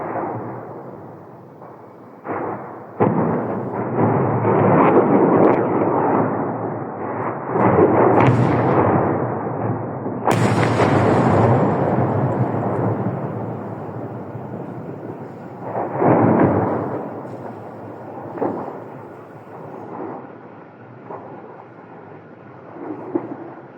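Explosions in Russia boom heavily, with loud deep rumbling blasts following one another and rolling on for several seconds before fading between fresh bursts.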